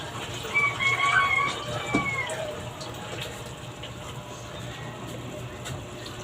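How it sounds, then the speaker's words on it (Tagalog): Water splashes into a cooking pot already holding vinegar for chicken adobo, a soft steady pour that fades to a quiet trickle, with a voice faintly present nearby. "At tubig muna. Tubig. Lagyan siya ng water."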